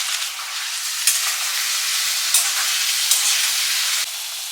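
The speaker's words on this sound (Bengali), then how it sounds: "জাস্ট হালকা করে একটুখানি ভেজে নেবো। আর একই সাথে আমি গ্রিন পিসগুলো দিয়ে দিচ্ছি।" Paneer cubes and green peas fry lightly in a pan, giving a steady, close, moderately loud sizzle with a few brief stirring clicks and no voices.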